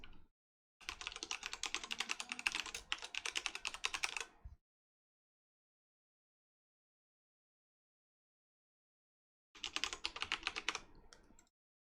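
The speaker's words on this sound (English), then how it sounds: "let me hide the screen so I can type in my password" Computer keyboard typing as an email address and password are entered, two bursts of rapid close keystrokes separated by a long silence, with no talking.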